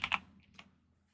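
A few quick keystrokes clack on a computer keyboard, close and crisp, in a brief burst followed by a couple of lighter taps, with no voice.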